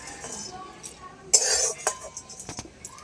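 Dry-roasted whole spices scraped and lifted out of a dry pan, with a sharp metallic clatter and scrape followed by a few lighter clinks of a spoon, close and brief.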